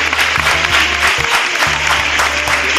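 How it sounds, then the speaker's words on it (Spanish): Studio audience applause on a Spanish-language TV show, loud clapping that continues throughout, with a low musical hum underneath. "Un aplauso para Karina, vale."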